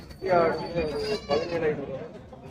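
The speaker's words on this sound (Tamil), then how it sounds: "இது குட்டி ஆடு" A young goat kid at a rural goat market gives two loud, close, wavering bleats in quick succession, with a bit of market chatter around it.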